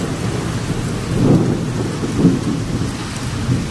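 Heavy Kalbaishakhi storm rain hisses continuously, with two low thunder rumbles rolling through in the middle and no one speaking.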